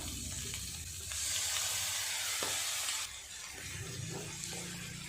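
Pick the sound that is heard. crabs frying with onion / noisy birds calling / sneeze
crabs frying with onion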